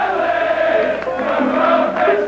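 Bristol City football crowd cheering and chanting in a stadium, a steady, dense roar of many voices with rising tonal singing, moderately loud and continuous throughout.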